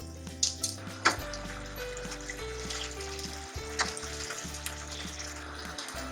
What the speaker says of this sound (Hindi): अभी मैं इसको भूनना चाह रही थी अच्छा सा, ऑयल और मसाले में ना ये सब्जियां भून जाए